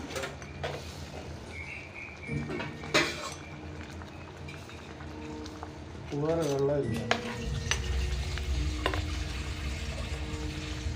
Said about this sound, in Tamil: இது நல்லா ஃப்ரை ஆகணுங்க நல்லா அப்படியே ஃப்ரை ஆகி வரணும்